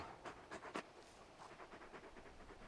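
Torgal, the large wolf-dog companion from Final Fantasy XVI, pants quietly in short rhythmic breaths, a few louder huffs at first then a steady, soft panting.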